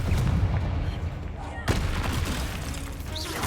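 Confringo blasting spell from the video game Hogwarts Legacy, a booming impact with a sharp crack midway over rumbling in-game effects, loud and close.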